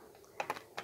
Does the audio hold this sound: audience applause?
no